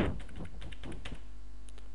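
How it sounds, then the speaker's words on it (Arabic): Fingers type a password on a computer keyboard in a quick run of light key clicks, close but soft, and the clicks die away into low room hum. "وبعدين اكتب كلمة السر اللي انا كنت حافظها"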